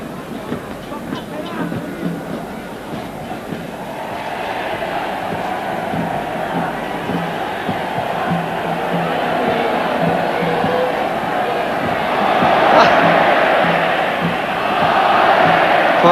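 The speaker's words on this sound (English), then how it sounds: "the passing being greeted with some oles from the Mexican crowd" A Mexican football crowd at an Argentina match roars continuously and swells into rising chants, distant and massed. A commentator talks over it.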